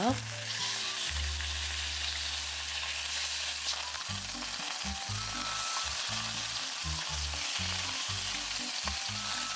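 Samgyeopsal pork belly sizzles on a grill in a loud, continuous hiss of frying fat, close up, with a low rhythmic hum running underneath.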